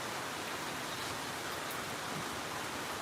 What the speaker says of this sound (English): I just love the sound of the rain like this